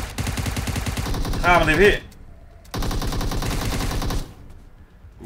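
Rapid bursts of automatic gunfire in the mobile battle royale game PUBG Mobile, loud and continuous in two stretches separated by a brief pause, with a shouting voice over the first burst.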